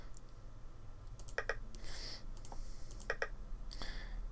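Mouse clicks from a computer player working a classic Minesweeper board, quiet and close, coming in quick pairs and small clusters at irregular intervals over a faint background hum, with no talking.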